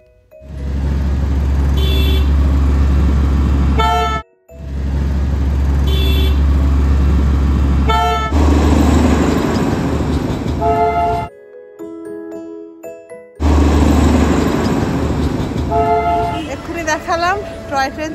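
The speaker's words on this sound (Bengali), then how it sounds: "দেখালাম টয় ট্রেন চলে গেল, এখান দিয়ে টয় ট্রেন এখনো যায়" A Darjeeling toy train runs along tracks beside a roadside hotel, with heavy low engine rumble, short horn toots and a passing roadway din, while people talk nearby.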